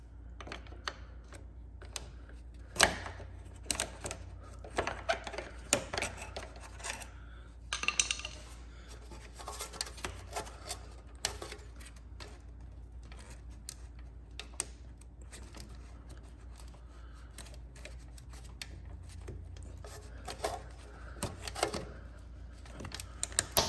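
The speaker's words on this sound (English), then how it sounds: "typically what I do is I just take a flathead screwdriver to remove the clip." A flathead screwdriver working a lower radiator hose clip free on a Fiat 500 Abarth, faint scattered metallic clicks and taps with small scrapes across a quiet background.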